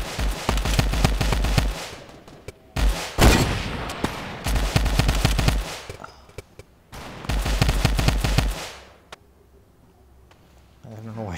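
Fortnite gunfire crackles in rapid bursts, loud and close, separated by short pauses and heavier single blasts, with a player's voice talking between volleys.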